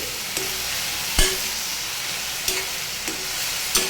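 Red amaranth greens tempered with ginger and mustard seeds sizzling steadily in a pan, with a few sharp clicks of the stirring spoon against the metal over the continuous frying hiss.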